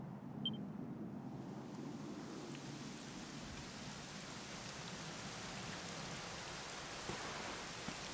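Steady rain falls in a continuous soft hiss with low rumbling beneath, fairly quiet and even throughout, no voices, in the game Dragon Quest XI S.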